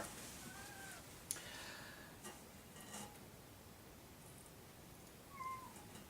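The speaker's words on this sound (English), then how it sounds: "the cat, who's climbing on the desk" A cat meows a couple of times, faint and short, while climbing on a desk in a quiet room, with a low steady background hiss.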